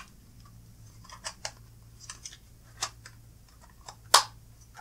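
Tape is pulled and snipped to secure a part while assembling a Game Boy Color with an FPGBC kit, giving a few short crisp rips and clicks, with one sharp louder snap near the end, close over a faint hum.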